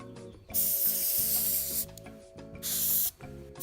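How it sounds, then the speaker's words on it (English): Airbrush spraying paint onto the tracks of a 1/56 M4 Sherman model tank, a close, steady hiss in several bursts of about a second each, with short pauses where the trigger is released. "get a nice fine spray pattern there"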